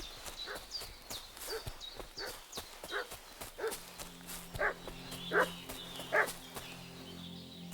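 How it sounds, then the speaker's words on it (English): A dog barks in the video game Kingdom Come: Deliverance 2, a few sharp barks repeating at mid distance amid horse clip-clops and ambient game sounds, with a brief voice. "What's that dog making such a fuss about?"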